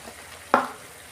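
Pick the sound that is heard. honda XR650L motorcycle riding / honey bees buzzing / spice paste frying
spice paste frying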